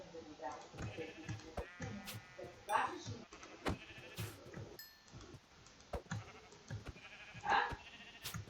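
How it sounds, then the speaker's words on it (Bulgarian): Sheep bleat a couple of times amid game sound effects and clicks, with a person talking over them. "Овце."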